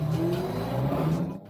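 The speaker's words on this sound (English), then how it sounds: "you can hear the engines on the Audis scream as they overtake cyclists and other road users" Audi cars racing on public roads, engines revving hard in a brief high-pitched rising scream captured by a dashcam, fading out at the end.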